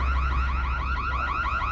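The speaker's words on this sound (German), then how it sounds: "Schalte den Alarm aus." A car alarm in the zombie video game Dying Light wails loud and close in a fast repeating warbling pattern that keeps going without a break.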